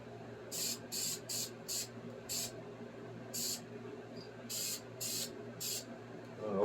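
High-temp header paint sprayed onto the exhaust header of a Triumph Spitfire in nine short hissing bursts, each about a quarter to half a second long, separated by brief pauses, close and fairly loud over a low background hum.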